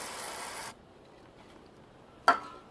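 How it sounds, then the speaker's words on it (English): Aerosol spray hissing into the small joint of a 2010 Jeep JK headlight housing: one steady close hiss of under a second, then quiet and a brief sharp burst near the end. "but I sprayed it right in between that little joint."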